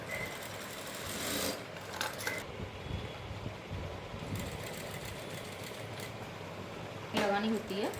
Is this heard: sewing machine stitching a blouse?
yes